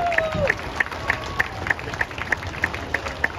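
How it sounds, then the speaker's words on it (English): Applause for health care workers at a premier's event, a steady wash of clapping from a crowd with regular sharp tapping accents over the top, moderately loud throughout. "How about a big round of applause to all of the health care workers through the last two tough years?"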